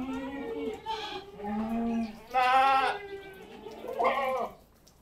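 Goats bleat on a farm during a deworming session, several close, loud calls coming one after another in short bursts with brief pauses between them.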